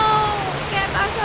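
Rushing river water in the video game Go Vacation, a loud, steady, broadband wash of flowing water over a brief stretch with no pauses.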